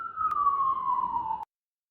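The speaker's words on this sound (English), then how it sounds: "It was the sirens." A steady wailing siren tone slowly falling in pitch, fairly loud, then cutting off abruptly, with faint traffic rumble underneath.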